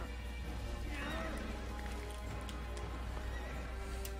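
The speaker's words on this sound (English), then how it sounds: "Quiet horse." A horse in Assassin's Creed lets out a loud whinny near the middle over continuous clip-clop hoofbeats and dense outdoor game noise, while a voice speaks underneath.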